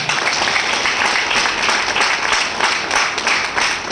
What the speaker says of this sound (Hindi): मैं चाहूंगा नए लोगों के लिए स्वागत का और एक बार जोर ताली बजाएं।